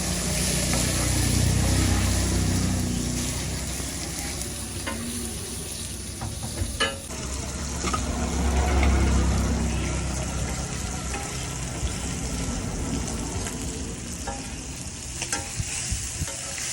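Fish deep-frying in hot oil at a country fish restaurant in Kaliganj, Gazipur, a loud, continuous close sizzle with occasional stirring clatter and a steady low rumble beneath.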